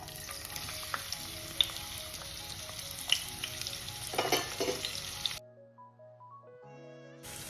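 Two large onions frying in a little oil, giving a continuous crackling sizzle with occasional sharper pops that runs for about five seconds under soft background music, then the music continues alone.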